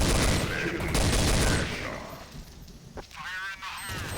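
Rapid bursts of gunfire in the first-person shooter Counter-Strike: Source, loud and dense for the first two seconds, then fading into quieter game noise and a short electronic tone, with someone talking over it.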